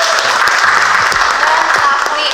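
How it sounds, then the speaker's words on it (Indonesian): Classroom applause for a student named Dafa, a short burst of dense clapping from a group, close and loud, with a voice speaking over it briefly. "Tepuk tangan dulu untuk Dafa."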